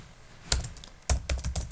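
Python code typed on a computer keyboard, quick clustered keystrokes up close, a single tap followed by a brisk burst of clacking.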